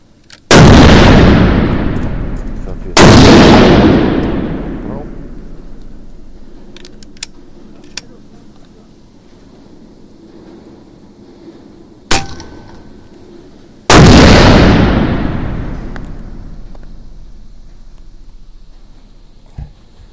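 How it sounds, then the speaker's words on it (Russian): Leshiy and Yeger rifles fire at an indoor shooting range: four loud, close shots, each followed by a long booming reverberant tail, with a few faint clicks between them. "Сейчас немножко выстрелим, послушаем звук,"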